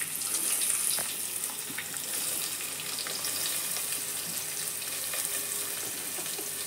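Chopped onion going into hot oil in a pan, giving a soft, steady crackling sizzle that holds evenly without any talk.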